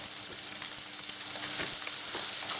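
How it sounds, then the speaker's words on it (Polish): Langoustines simmering in white wine in a pan give off a steady, dense sizzle and bubbling, close and continuous throughout with no voices. "wciskamy i zalewamy białym winem. I teraz sobie je lekko podgotujemy"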